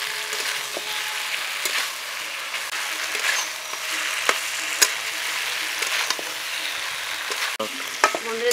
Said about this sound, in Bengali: সব রকম মশলা দিয়ে কষা হয়ে গেছে